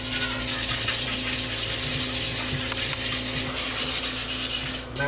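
A vinaigrette of olive oil, mustard and vinegar is whisked in a bowl, giving a loud, steady, rapid rasping scrape that runs unbroken throughout, with no voices.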